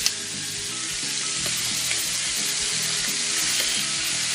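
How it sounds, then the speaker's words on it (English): Black bear meat searing in a hot pan outdoors, a loud, steady, continuous sizzle and crackle with faint spatters, no voices. "Want that nice sear on the outside."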